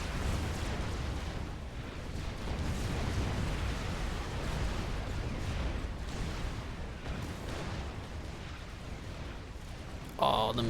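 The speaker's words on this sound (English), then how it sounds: "So many bombs being dropped on these guys." Dense, continuous rumble of bombs and explosions from a large battle in the Supreme Commander: Forged Alliance strategy game, booming steadily throughout with a sharper burst near the end.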